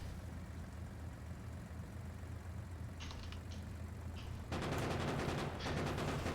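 Gunfire in the video game Krastorio: a few quick bursts of shots, then sustained rapid automatic fire over a constant low engine-like drone, loud and continuous without talk.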